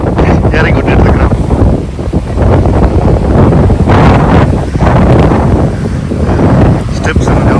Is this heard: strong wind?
yes